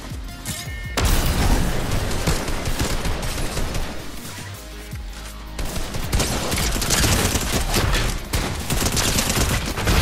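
Pump shotgun blasts and other gunfire from a Fortnite match, loud and dense with repeated booming shots across the whole stretch after a brief quieter opening.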